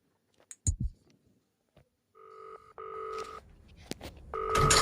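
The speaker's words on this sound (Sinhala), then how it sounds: "ඔන්න කෝල් එකක් කරන සද්දයක් ඇහෙනවා guys" Phone dialing tones in the Baby in Yellow video game, starting after a few scattered clicks: steady beeping tones play in several separate bursts, clear and close, with no talking.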